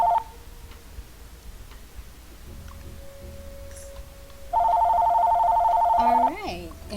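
A phone rings close by in a quiet room, with a few short electronic tones followed by a louder sustained warbling ring that stops abruptly with a brief falling chirp.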